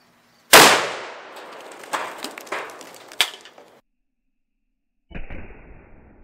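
A rifle shot strikes a 62-pound bucket of joint compound, a sharp loud crack followed by clattering debris, then a quieter thump several seconds later.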